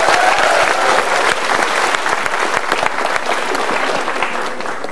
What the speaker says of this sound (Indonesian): Kita berikan tepuk tangan dulu Mbak Tiwi.